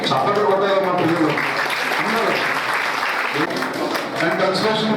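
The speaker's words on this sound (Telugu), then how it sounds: "చప్పట్లు కొట్టారు మా పిల్లలు" Children clap together at a Children's Day celebration, sustained dense applause close and loud, with a voice speaking over it.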